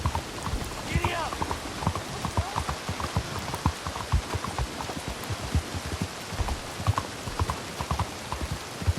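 Horse hooves clip-clop steadily at a trot through Red Dead Redemption 2, a rapid even rhythm of muffled thuds over a rain-like patter, with a brief voice in the middle.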